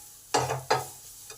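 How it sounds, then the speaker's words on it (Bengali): Soybean chunks stirred with spices in a frying pan, giving two sharp scraping stirs followed by a short sizzle, close and alone with no talk. "এটাকেও 2-3 মিনিট ভাজতে হবে মশলার কাঁচা গন্ধটা চলে যাওয়ার জন্য"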